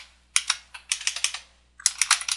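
Keystrokes on a computer keyboard during DOS command entry, in three quick bursts of close, crisp clicks separated by brief pauses, with no voices.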